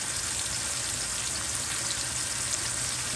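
Butter melting around a pan-fried steak, giving a loud, continuous close-up sizzle that holds steady and even throughout with no pauses.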